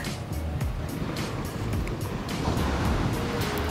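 Surf rolling onto the shore at Tikus Emas Beach in Bangka, a steady broad wash of breaking waves with some wind rumble, continuous and fairly loud with no talk.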